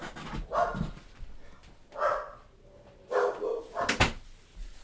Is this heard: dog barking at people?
yes